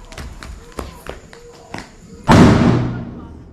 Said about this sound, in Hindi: देखो मामा कैसे बम फोड़े